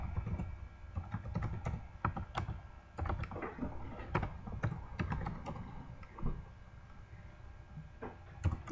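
A password is typed quickly on a computer keyboard, with dense, rapid clicking key presses for several seconds, briefly pausing and then resuming near the end.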